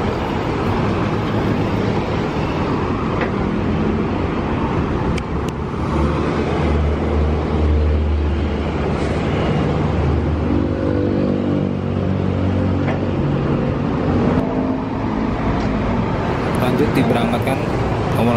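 A bus on a Hino RK chassis, SHD body, departs from a roadside agent's stop in the evening, its engine a loud steady rumble rising in pitch as it pulls away, with a voice talking over the noise.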